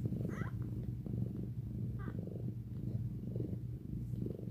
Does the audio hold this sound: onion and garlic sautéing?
no